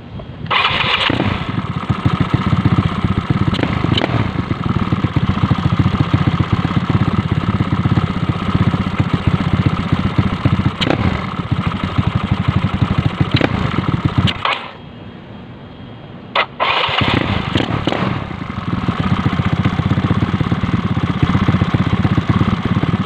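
A Yamaha Mio motorcycle with a 28mm carburetor runs close and loud at a steady idle while its carburetor is tuned. The engine cuts out partway through and then starts again.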